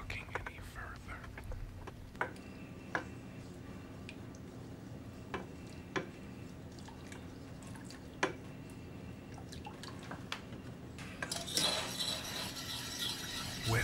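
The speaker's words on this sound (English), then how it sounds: "Whisk continuously over low heat until the bechamel sauce thickens." A whisk stirring cold milk into a roux over low heat for a béchamel sauce, producing quiet, close, scattered ticks and taps against the pan, with a denser scraping swirl near the end.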